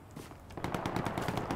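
Machine gun fire in the World War II shooter Hell Let Loose at Sainte-Mère-Église, a rapid rattling burst starting about halfway through and continuing steadily, fairly close and loud over a game battlefield background.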